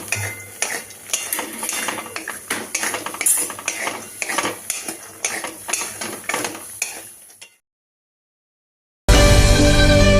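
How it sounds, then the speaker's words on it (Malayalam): Sprouted ragi being dry-roasted in a pan, with a spoon scraping and stirring in steady, busy strokes for several seconds before a pause and a loud clatter at the end. "പരുവത്തിൽ ഇതിനെ വറുത്തെടുക്കുക."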